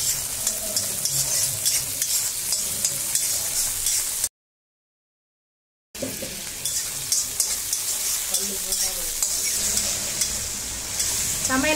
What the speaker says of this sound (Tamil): எண்ணெய் நல்லா காஞ்சிருச்சு வெங்காயத்தை போட்டுக்கலாம் வெங்காயத்தை நல்லா வதக்கிக்கலாம்